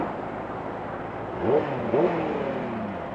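A 2018 Benelli 600i ABS sport motorcycle engine idles, then revs up sharply twice in quick succession, each rise and fall clearly audible over a steady hum.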